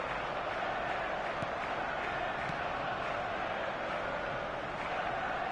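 A football stadium crowd in the video game eFootball 2024 produces a steady, distant roar and murmur that holds at an even level throughout.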